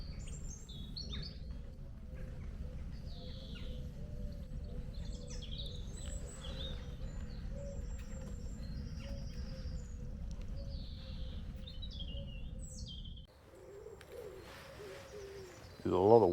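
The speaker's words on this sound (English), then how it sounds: "There's a lot of wildlife activity going on here. Birds flapping around." Birds call around a graveyard outdoors, with scattered chirps and tweets over a low rumbling background and occasional cooing, moderately distant, before things quiet and a brief louder noise ends it.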